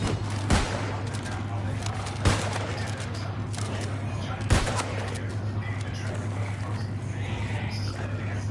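Gunfire in the New World Aeternum game: three sharp, widely spaced shots ring out over a constant low hum and busy background, each crack loud and distinct, with voices talking faintly in between.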